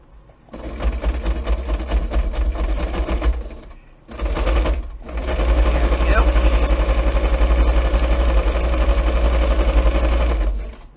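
A sewing machine stitches through a fabric notebook cover in fast, buzzing bursts, pausing briefly twice before running steadily again, close and loud with a low motor hum beneath the rapid needle chatter.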